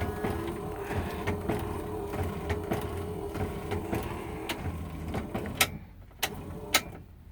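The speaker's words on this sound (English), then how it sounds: "The wiper motor and the washer work fine" Windscreen wiper motor and washer pump on a Series IIA Land Rover, a steady electric whir with rhythmic sweeping clunks, ending in a few sharp clicks as the motor stops.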